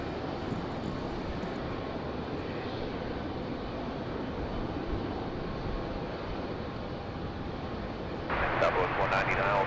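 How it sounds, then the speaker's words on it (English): A Republic Airways Embraer E175 LR jet arriving from LaGuardia at night at Raleigh-Durham airport gives off a steady, moderately loud engine rush throughout, and a voice talks over it near the end. "Looks like we got Republic Airways 4497 coming in from LaGuardia"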